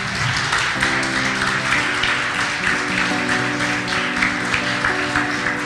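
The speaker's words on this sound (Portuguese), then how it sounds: "Irmãos, pode aplaudir o Senhor, não tem problema não." Congregation clapping at a church worship service, a continuous dense wash of applause mixed with sustained music tones and a voice underneath.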